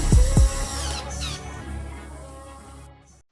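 A power screwdriver remounts screws on an RC car cover, with two quick sharp buzzing bursts at the start followed by a brief whirring trail-off, close and fairly loud.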